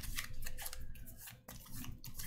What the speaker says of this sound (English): I'm gonna shuffle it up a little bit here.